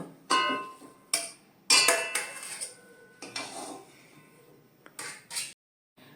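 Pea stuffing for koraishuti parotha is scraped from a pan into a bowl in a kitchen: a series of sharp metal spoon clinks and scrapes against cookware, close and distinct with short pauses between strikes.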